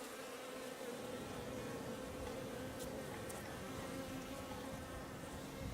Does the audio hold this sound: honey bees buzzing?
yes